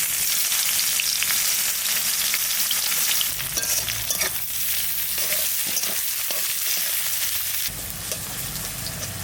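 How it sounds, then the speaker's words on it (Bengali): Onion fries in a pan with bay leaf, dried chilli and cumin for a village-style river fish curry, a loud, continuous close sizzle with occasional stirring scrapes and no talk. "পেঁয়াজটা ভাজা ভাজা হয়ে গেছে।"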